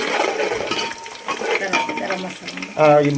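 Onions frying with green chillies and cashews for homemade mutton biryani, a close crackling sizzle under a spoon stirring and scraping the pot, with a few metallic clinks near the end.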